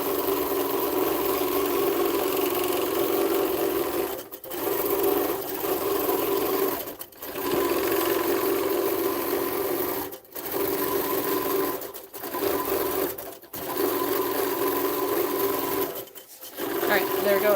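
Baby Lock Gallant XL long arm quilting machine stitching in a steady, loud hum with a rapid needle rhythm, broken by several brief pauses, with a voice talking faintly underneath.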